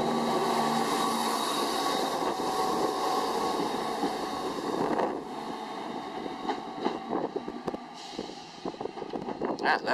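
A train at a station platform near a level crossing: a steady broadband rumble and rail hiss that eases halfway through, followed by lighter clanks and rattles, with some wind buffeting on the microphone.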